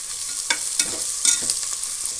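Onions and green chillies fry in oil for mushroom biryani, a steady close hiss punctuated by three or four quick scraping strokes of a ladle against the pan.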